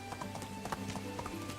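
Donkey hooves clip-clopping at a quick, steady pace in the survival game The Oxbow, a run of sharp close hoofbeats with no other sound.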